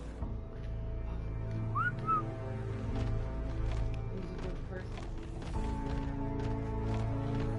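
An aggressive-command whistle in the ARK survival video game gives a brief rising chirp early on, set over a steady layered hum of in-game background sound.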